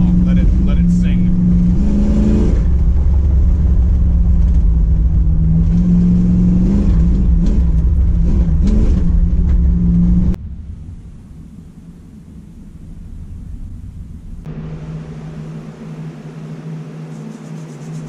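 A 1979 car engine roars steadily up close while driving, its note rising and falling as it revs, then cuts to a quieter idle-like hum with a lower drone.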